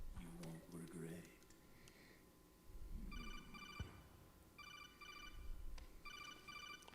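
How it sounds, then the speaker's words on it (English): A phone in the Metal Gear Solid 4 video game rings in three short, repeated electronic trilling bursts, moderately clear, after some in-game voices and background ambience. "Let me answer a phone call."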